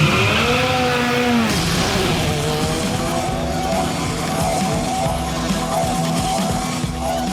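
A car slides through a controlled drift with loud tire squeal and a rising, falling engine note. The squeal is close and sustained and carries on under continuous engine roar.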